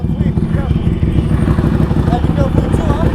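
An Erik Buell Racing (EBR) motorcycle engine runs with a steady, loud low rumble and throb throughout, heard up close without rising or falling in pitch.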